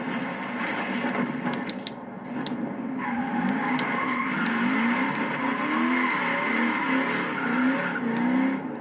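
Tires spin and squeal on a stock car in Forza 4, the engine revving loudly beneath a sustained screech of wheelspin that wavers in pitch, with no talk.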